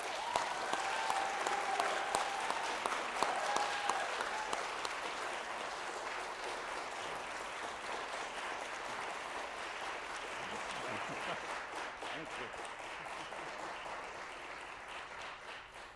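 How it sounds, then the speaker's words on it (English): An audience at a NASDAQ opening bell ceremony breaks into sustained applause, a dense wash of clapping that swells early and slowly fades over about sixteen seconds, with a brief spoken thanks on top. "if you don't stop clapping, we won't be able to open the market"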